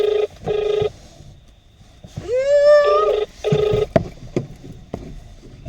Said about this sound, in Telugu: ఫోన్ చేయరా ఇంకోసారి